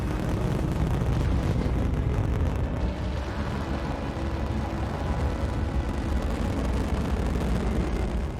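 A Saturn V rocket launch heard as a dense, sustained roar with heavy low rumble and crackling texture, loud and unbroken throughout, with no voices.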